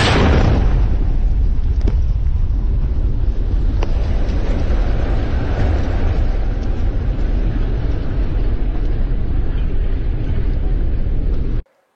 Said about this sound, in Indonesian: Tentara Israel meledakkan gedung pengadilan utama yang ada di jalur Gaza.